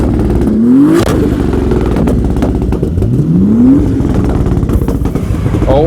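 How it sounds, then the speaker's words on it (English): A Toyota Supra revs hard at a car meet, two rising engine sweeps climbing and falling over a steady rumble of nearby engines and crowd chatter, loud and close. "Supra's revving"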